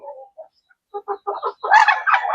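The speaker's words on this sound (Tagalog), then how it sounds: "Ayun mga manok natin, mga Deca Brown, Rhode Island, Kabir." Chickens, including Rhode Island birds, cluck in short bursts, then a louder rising squawk from a nearby hen, the calls growing busier toward the end.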